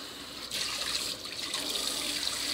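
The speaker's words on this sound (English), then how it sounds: "So I'm gonna wash these. I'm gonna put them to drain most of the water out." Running water from a kitchen tap splashes steadily as vegetables are washed under it, a continuous close hiss with slight shifts as the stream is interrupted.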